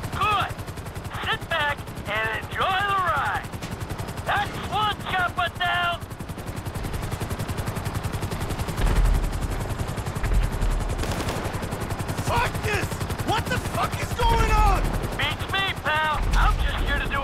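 Gunfire aimed at attacking helicopters in the GTA V video game: dense bursts of shots under a steady helicopter rotor drone, continuous and loud, with voices talking over the action.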